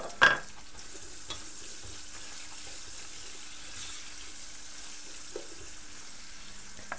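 Onions frying with cumin in a pan, a faint steady sizzle with a sharp clatter at the start and a few light stirring knocks, no voices.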